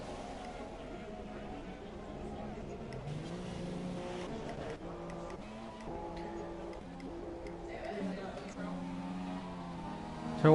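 F1 race cars in a Russian Grand Prix racing video game whine and shift through revs on track, a continuous layered engine drone under steady commentary voices.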